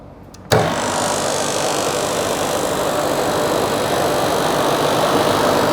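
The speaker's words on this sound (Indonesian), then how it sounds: "maka motor akan running reverse dan H3" An electric motor on an electrical installation control panel runs in reverse, starting abruptly and settling into a steady, even hum that holds unchanged at close range, with no voices.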